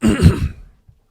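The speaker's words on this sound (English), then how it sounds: "Clearing his throat again." A man clears his throat once, a short rough grunting rasp that fades quickly into silence, close and moderately loud.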